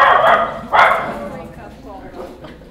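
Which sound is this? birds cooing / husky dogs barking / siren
husky dogs barking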